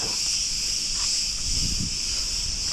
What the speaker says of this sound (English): And cicadas.